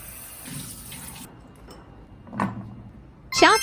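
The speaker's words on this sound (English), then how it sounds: "Wash ingredients." Running tap water in a kitchen sink as chili, dried shrimps and preserved radish are washed, a soft steady splashing flow with a few louder splashes and clunks near the end.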